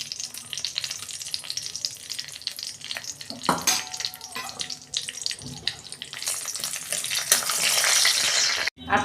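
A bay leaf and three dried red chillies hit hot oil in a Bengali home kitchen, giving a close, crackling sizzle that flares in bursts and swells louder toward the end, with stirring clatter and no speech.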